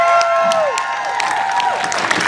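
A crowd at a Palestine peace rally in Fayetteville, Arkansas cheers and applauds steadily, with chanting voices and whistle-like tones over the continuous roar.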